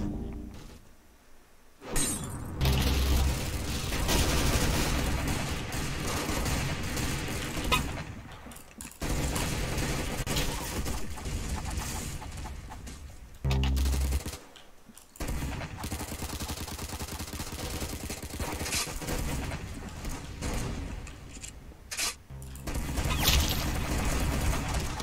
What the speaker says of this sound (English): Why does this gun fire at like Mach 4? It's a shotgun.